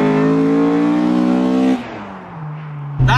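Honda engine with a 5-speed gearbox revving hard up into VTEC toward the limiter, a loud rising harmonic wail that drops sharply at a shift, then climbs again briefly.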